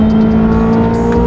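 A Corvette C8 Z06's naturally aspirated V8 engine drones loudly and steadily, a deep rich rumble heard close up from inside the car.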